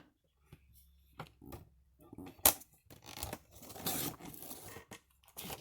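Paper is cut for a flip-and-fold booklet, with scattered snips, rustles and a sharp crisp slice, close and uneven amid quiet handling noise; no talking.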